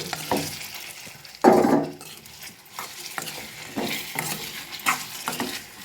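Cut taro root pieces fry in oil in a pan while a utensil stirs them, giving soft sizzling with scraping and clinking strokes, one louder stir in the middle and lighter ones after.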